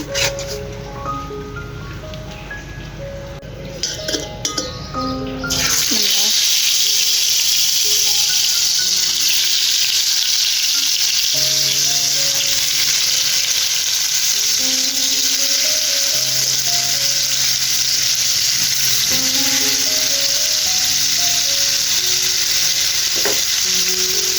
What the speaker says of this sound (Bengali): মাছ ভাজা হয়ে গেছে, এখন রান্না বসিয়ে দিয়েছি।